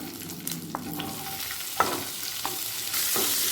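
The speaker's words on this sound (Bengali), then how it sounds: "পনিরটা ভেজে নেওয়ার পরে যে তেলটা রয়েছে সেই তেলের মধ্যে দিয়ে দেব ক্যাপসিকাম" Capsicum pieces are tossed into oil left from frying paneer and sizzle steadily, with sharp scrapes and clicks from stirring, and the hiss swells near the end.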